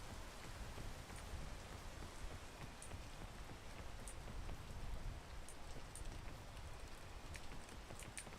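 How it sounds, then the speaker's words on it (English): Rain falls in the video game Peak, a steady soft hiss of drops at a low, even level with no speech over it. "once it stops raining"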